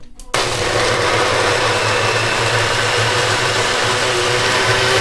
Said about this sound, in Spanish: todo esto va a la licuadora.